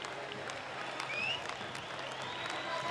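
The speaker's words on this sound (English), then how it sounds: "Nice round of applause for Michael Winter, heralded recruit" Crowd at a college baseball game between Texas and Tarleton State applauds steadily during a pitching change, a broad wash of clapping holding even for about three seconds with no talk over it.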